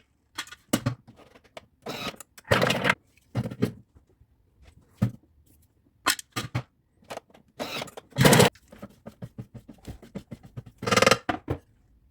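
A Thermomix food processor chops garlic and onions in repeated loud, short whirring pulses, each cutting off into near silence before the next burst, heard close with no talking.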